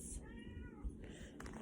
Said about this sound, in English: That's my cat, y'all hear.